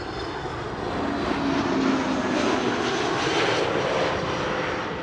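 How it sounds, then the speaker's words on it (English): A KLM Airbus A321neo airliner arriving at Schiphol, its engines a steady broadband roar that swells slightly and holds loud and close for the whole stretch, with no voices. "KLM flight 1502, A321neo, arriving from Madrid."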